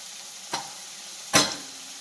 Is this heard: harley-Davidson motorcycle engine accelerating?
no